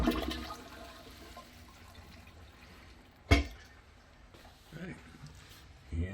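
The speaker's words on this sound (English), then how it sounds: "Flush the toilet to drain the tank." A toilet with its water supply shut off is flushed so the tank drains, starting with a sharp gush and then a rushing, gurgling drain that fades and rises again in swells.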